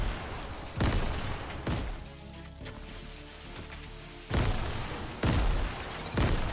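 Grenade explosions in Fortnite go off in a rapid series of sharp, booming bursts, about five of them spaced irregularly across the stretch, loud and close with quieter rumble between.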